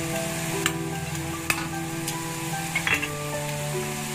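Oyster sauce hits braising pork in a pan, setting off a steady close sizzle with soft stirring and a few sharp utensil clicks against the pan, with no talking.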